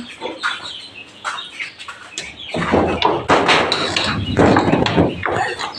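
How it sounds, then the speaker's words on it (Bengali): Native country chickens under a shed clucking and flapping their wings, close and fairly loud, with busy rustling bursts that build toward the end. "দেখতে পাচ্ছেন আমার বারো দেওয়ার চালা দেশি মুরগি"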